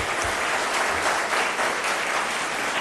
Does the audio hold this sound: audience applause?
yes